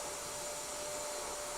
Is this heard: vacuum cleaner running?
yes